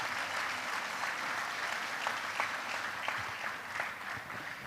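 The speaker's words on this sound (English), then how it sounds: "give our soldiers a big round of applause" Audience applause for soldiers of the Armed Forces of the Philippines at a tribute ceremony, a steady, dense wash of clapping from a large crowd that holds at an even level throughout with no talking.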